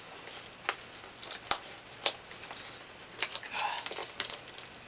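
Plastic packaging around a VHS tape being torn open by hand without scissors, a series of sharp crinkles and rips that stop and start, close and moderately loud, with quiet breathy sounds in between.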